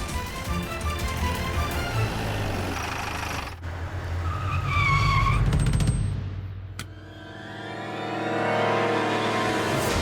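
A car in a Hindi TV drama screeches its tires in a long skid to a halt, with engine roar, a sharp squeal and a thud, followed by a fading rumble and a swelling dramatic music sting.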